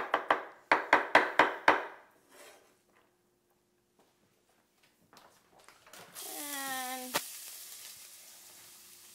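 Onions chopped in a handheld kitchen chopper gadget: six quick, evenly spaced chopping strikes up close, followed by quieter clatter and handling noises.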